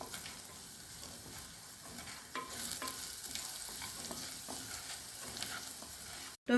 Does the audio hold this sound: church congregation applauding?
no